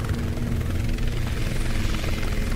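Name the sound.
helicopter in video game Chained Together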